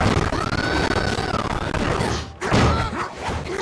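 Rapid, dense gunfire from the video game Silent Hill Book of Memories on PlayStation Vita, a loud sustained barrage of shots and impacts with a brief dip before a renewed burst.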